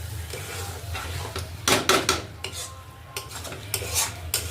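Food is stirred around a pan during home cooking of vegetables, giving scraping utensil-on-metal strokes in irregular bursts over a faint background sizzle, with no talk.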